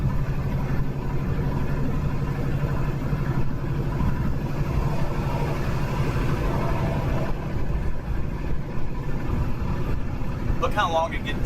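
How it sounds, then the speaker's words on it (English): A loaded semi truck's diesel engine accelerates slowly, a steady low rumble under road noise from inside the cab, with speech heard over it. "Look how long it takes me to get up to speed if you can hear my engine."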